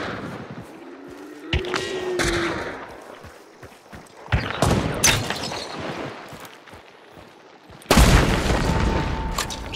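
An explosive barrel blows up in the shooter game Hunt: Showdown, one of several sharp, loud booms and thuds that hit amid gunfire and crackling debris across a few seconds.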